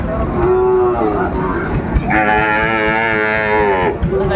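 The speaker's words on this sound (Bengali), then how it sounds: "শাহিওয়ালের ষাঁড় বাচ্চা, বেশ সুন্দর কোয়ালিটির বাচ্চাগুলো" Young Sahiwal bull calves moo repeatedly at a busy cattle market in Dinajpur, with two long, close, loud calls over a background of crowd murmur.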